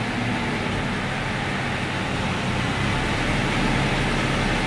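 Driveshaft spinning on a homemade balancing rig at speed, a loud, steady broadband whirring roar that holds constant throughout with no talking.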